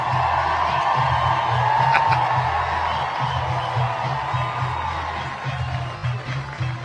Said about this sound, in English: First of all, listen to this crowd.